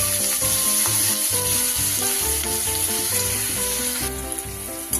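Steady sizzling of ginger and garlic frying in a hot pan, with music playing in the background throughout.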